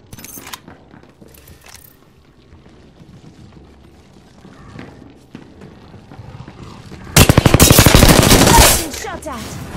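Rapid automatic gunfire in the Apex Legends video game, starting after a stretch of quieter clicks and footsteps, then erupting into a loud, close burst of machine-gun fire lasting a couple of seconds.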